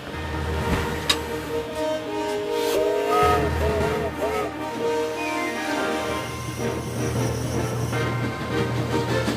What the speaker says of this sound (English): a ride by steam train on the lakeside to Haverthwaite Railway